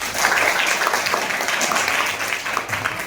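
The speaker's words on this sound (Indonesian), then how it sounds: "Bagus, kasih tepuk tangan." A school class applauds together in a classroom, a lively, uneven patter of many hands clapping at moderate volume, with no one speaking over it.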